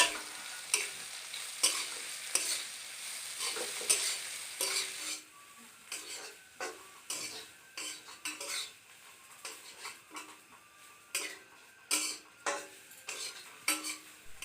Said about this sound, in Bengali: এবার চিংড়িগুলো ভালো করে ধুয়ে দিয়ে দিলাম, তারপর 2 মিনিট ভালো করে ভেজে নিচ্ছি।